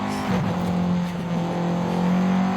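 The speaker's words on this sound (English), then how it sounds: "pretty grippy. Some tire screeching there." Car tires screech in the Forza Horizon racing game over a steady engine drone, a continuous squeal lasting a couple of seconds, loud and close.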